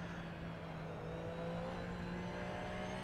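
A race car engine in the Assetto Corsa video game at Imola, a steady low drone slowly rising in pitch as it accelerates, fairly quiet and continuous throughout with no voices.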